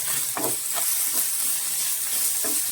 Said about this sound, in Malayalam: ഇത് നന്നായിട്ട് നമ്മൾ വറുത്തെടുക്കണം.